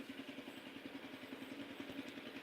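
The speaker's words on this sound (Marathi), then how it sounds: "ट्रॅक्टरचा आवाज येतो इथं" A tractor engine running steadily nearby, a faint, low, rhythmic chugging thrum with regular pulses, heard alone with no talk.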